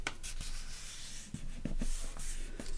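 Folded paper cardstock is creased by hand along a one-inch fold, giving soft, close rubbing and scraping strokes in short separate bursts, quiet and with no talk.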